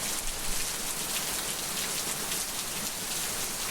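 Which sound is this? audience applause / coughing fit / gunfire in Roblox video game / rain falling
rain falling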